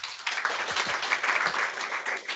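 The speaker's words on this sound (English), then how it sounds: "Please give Maria and Joanne a round of applause." An audience at an education talk on reading attainment bursts into sustained applause for the speakers, many hands clapping together in a dense, even patter that carries on without pause.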